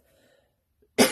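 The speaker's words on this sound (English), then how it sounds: "I'm not sure where this cough is coming from." A single sharp human cough bursts out at the very end after near silence, close and loud, with no talk around it.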